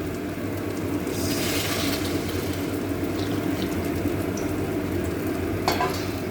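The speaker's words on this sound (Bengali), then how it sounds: "এখন আমি এখানে গরম জল দিয়ে দেবো।" Masala frying in hot oil for a curry as hot water goes into the pan, a steady close sizzle and bubbling hiss that runs evenly throughout, with a few faint clinks of a utensil and no talking.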